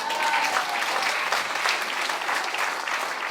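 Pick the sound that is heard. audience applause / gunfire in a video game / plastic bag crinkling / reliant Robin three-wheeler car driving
audience applause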